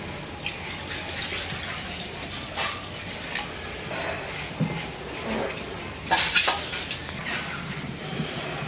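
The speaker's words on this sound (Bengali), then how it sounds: "কড়াইতে পানি দিয়ে দিলাম" Water is poured into a wok for a tilapia and eggplant curry, a running, splashing wash with metallic clanks of the pan and utensils over a soft background hiss.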